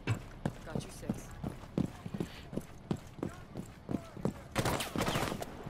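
Rapid gunfire from a teammate in a zombie video game, a series of sharp regular shots with a louder dense burst near the end, voices talking over the game sounds.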